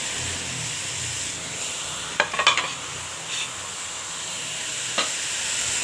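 Crushed cabbage frying in a pan of spiced masala for a cabbage and chicken curry, giving a steady sizzle with a few brief stirring scrapes and clinks, close and fairly quiet.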